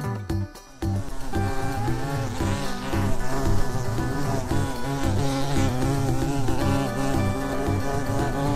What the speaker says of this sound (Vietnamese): con ong